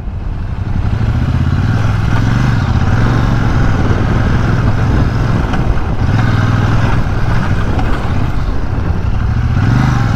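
A Royal Enfield Shotgun 650 motorcycle rides over a rough road stretch. Its engine drones loud and close in a continuous low rumble, with rattling clatter from the bumpy surface and slight shifts in engine pitch.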